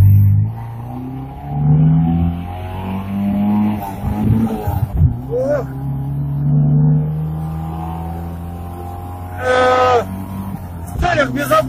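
A VAZ 2106 classic car with over 100 hp revs and accelerates hard, its engine note climbing and falling in repeated surges, loud and close, with people talking inside the car over the engine.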